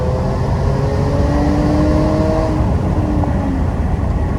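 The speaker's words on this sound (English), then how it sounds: "as soon as we stomp on it," A supercharged Jaguar F-Pace 35T R-Sport luxury SUV accelerates hard from low revs in eighth gear, its engine droning loudly and steadily with rising tones, heard alone from inside the cabin.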